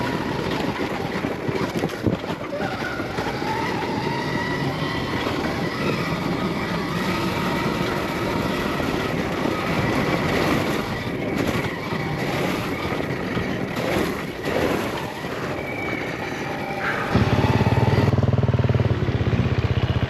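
A Stark Varg electric motorcycle rides an offroad enduro trail uphill over a rock step, a continuous near whine mixed with wind buffeting, tyre scrabble and rattles, with a louder low rumble near the end.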